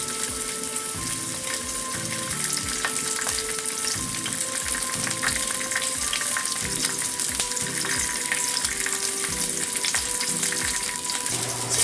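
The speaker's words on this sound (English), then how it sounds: "we're going to start by getting a good sear on the salmon" Salmon sears in a frying pan with a steady, close sizzle that crackles continuously for the whole stretch, with no voices.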